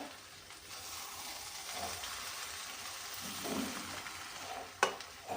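A spoon scrapes and stirs poha in a heavy pot, soft and close, over a low sizzle, ending with a brief knock against the pot.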